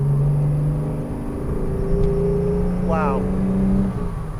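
A 1963 Jaguar 3.8 Mk II Saloon engine hums steadily, then its pitch climbs as it revs through the gears, heard from inside under a brief spoken exclamation.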